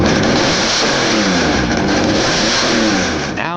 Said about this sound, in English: This car here actually has the loudest engine in Britain